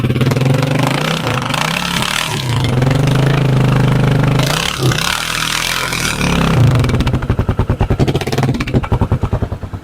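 Keeway Superlight 200 motorcycle on its stock exhaust with the baffles removed, engine revving in loud rising and falling bursts, then settling into a rapid, throbbing idle near the end.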